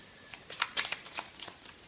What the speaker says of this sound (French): Et je vais juste tirer une seule carte pour terminer ce tirage.